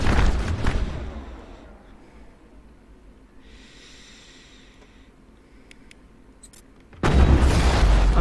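Rocket explosions in the Mass Effect video game: a loud, booming blast at the start fades into a low rumble, then a second heavy explosion hits near the end.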